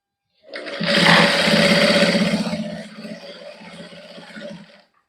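A sewing machine stitches warm fabric for a t-shirt in one continuous close whirring burst, loudest at the start, then easing off and slowing before it stops after about four seconds.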